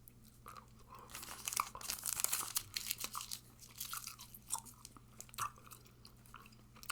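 Close, crisp chewing of Hubba Bubba Max sour blue raspberry bubble gum, with repeated wet crunches and smacks in an uneven rhythm. The sound is alone, with no talking.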